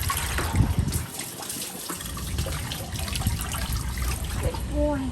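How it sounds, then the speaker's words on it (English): Water running from a tap rinses soap off a cat during a bath, a steady close trickle and splash under a soft voice speaking gently, with brief faint animal vocal sounds near the end. "And let's give him a rinse."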